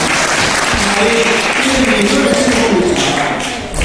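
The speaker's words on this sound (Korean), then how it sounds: "박수입니다." Audience applause at an outdoor concert in a theme park in Korea, following a soprano's song. Dense, steady clapping runs close and loud throughout, and a sung or spoken voice sits faintly beneath it before the applause tapers at the end.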